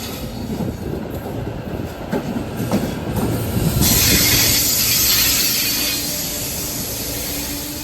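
A regional rail train rolls along the rails with rhythmic clacking wheels and a rumbling carriage, then a brighter hiss and squeal rises partway through.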